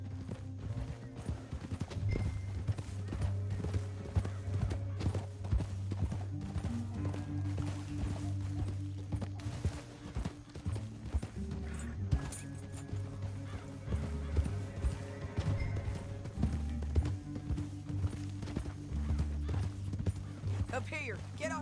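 Horse hooves clip-clop steadily in Red Dead Redemption 2 as riders travel through a canyon, a continuous rhythmic pounding heard under ongoing talk and the game's ambience.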